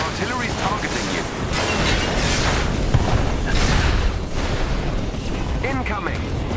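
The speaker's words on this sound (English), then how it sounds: "The artillery's targeting you." Artillery shells burst repeatedly in Marvel's Avengers, loud booming explosions rolling one after another in a thick, sustained barrage with scattered gunfire and pops.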